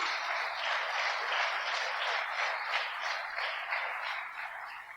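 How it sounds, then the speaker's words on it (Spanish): A church congregation claps together in sustained, dense applause during a Spanish-language service, steady and fairly loud for the whole stretch, easing slightly at the end. "Denle un aplauso fuerte a Jesús."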